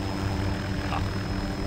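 Helicopter in the ArmA 2 video game, a steady droning rotor and engine whir holding at an even level throughout, alone with no talk.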